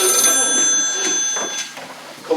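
A telephone bell rings loudly for a couple of seconds, its bright trilling tone fading out toward the end amid faint room sounds.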